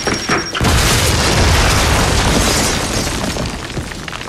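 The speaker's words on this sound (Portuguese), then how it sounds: "ocorre umas explosões dessa e não derruba" A loud, sustained explosive roar from explosions in the video game MISSING: An interactive thriller bursts in after a brief quieter moment and rumbles on steadily, dense and heavy, with no talking.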